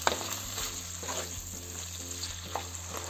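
Vegetables sizzle in a pan with green chili and ginger-garlic paste, a soft continuous hiss broken by a few light stirring scrapes, quiet and close with no talking.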